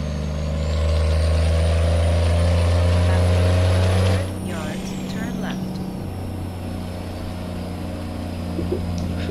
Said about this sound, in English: Truck's loud as hell.